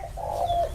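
A single soft, low dove coo, close and clear, over in under a second.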